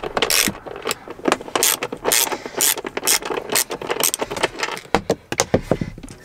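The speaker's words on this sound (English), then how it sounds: "Now we can entirely unscrew those two bolts." A ratchet wrench unscrews two bolts on a Tesla Model Y while physical shortcut buttons are fitted, giving a close, loud run of quick clicking ratchet strokes in uneven bursts with brief pauses between.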